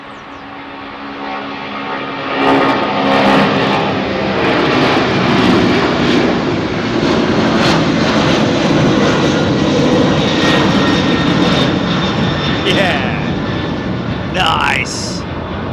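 Jet airliners departing runway 27R at London Heathrow Airport, a broad continuous engine roar that swells after a few seconds and holds loud throughout, with a faint voice briefly audible over it.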